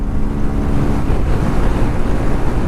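A fuel-injected motorcycle roars at speed in fourth gear at about 100 km/h, its engine drone blended with heavy, steady wind rush, loud and continuous throughout with no talking.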